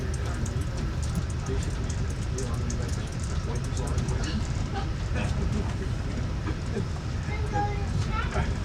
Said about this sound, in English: we're waiting for another train to pass us.